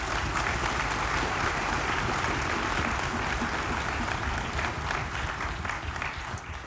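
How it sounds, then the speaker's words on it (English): An audience at an honor orchestra concert gives the students on stage a long round of applause, dense, even clapping from many hands that stays loud throughout and eases off slightly at the end. "let's give a big round of applause for all the students on stage"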